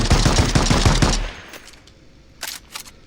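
An MK14 rifle fires a rapid burst in a video game, loud close shots in quick succession for about a second, followed by a few scattered shell or impact clinks.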